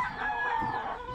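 Chickens and chicks clucking close by in a brief, loud burst of overlapping fowl calls.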